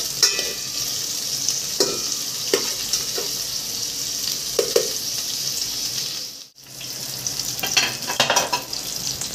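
Onions and tomatoes sizzle in a pan, with a constant frying hiss and occasional spoon scrapes and stirring strokes, close by and fairly loud.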